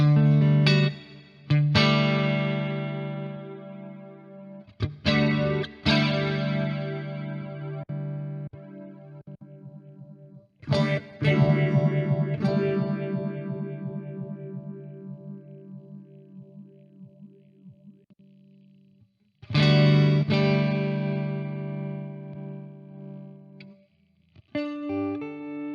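Guitar chords ring out through a GFX10 multi-effects unit's modulation setting, each strum swelling with a shimmering, wavering tone and decaying slowly; several separate strums with pauses between them, no talking.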